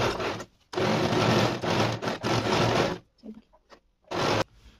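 A sewing machine stitching a folded seam on pant fabric runs in loud, steady bursts of about a second each with brief pauses between, then a few soft rustles and clicks before one last short burst.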